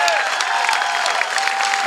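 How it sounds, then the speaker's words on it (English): A crowd at the 2010 St. Louis Tax Day Tea Party rally claps in a continuous burst of applause, loud and close, with a faint steady tone running beneath it. "Give Jim another round of applause for getting this together today"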